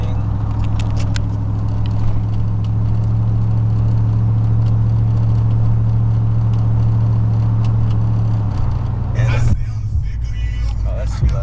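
A 2000 Chevrolet Silverado with a 4.8 engine drones steadily from inside the cab while driving, a loud continuous low exhaust hum that shifts pitch near the end.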